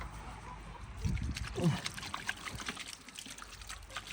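Water trickles and splashes over pork being rinsed under a running tap, with soft handling noises and a brief louder splash.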